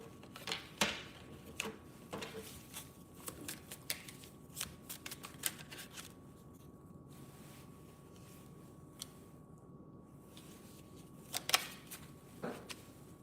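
A tarot deck is shuffled by hand in repeated quick riffling bursts, crisp papery flutters and taps coming close and clear in a quiet room with no voice over them.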